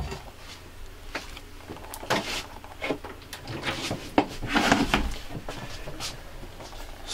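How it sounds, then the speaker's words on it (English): A large soft-closing cutlery drawer in a 2020 Hobby Optima Premium T 65 GE motorhome kitchen slides and thuds repeatedly, with clicks and rattles over several seconds, close and moderately loud. "So a huge drawer with for the cutlery with soft closing"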